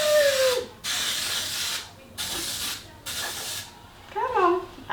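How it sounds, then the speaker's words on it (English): Baking spray with flour in it hisses from the can in four steady bursts of about a second each, close to the microphone, while someone prepares pumpkin bread. "this is the baking spray, and it has flour in it."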